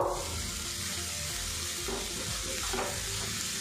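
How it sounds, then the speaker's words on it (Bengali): Grated carrot, semolina and chopped raisins are stirred together in a hot pan, a steady close sizzle with soft scraping running throughout, no voices. "এবার এগুলো একসঙ্গে ভালো করে মিক্স করে নেব।"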